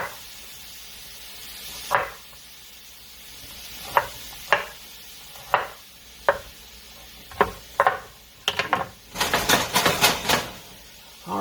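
Carrots and thinly shaved beef stir-fried in a pan: a faint sizzle underneath, broken by spaced scraping stirs and clacks that grow busier and louder toward the end.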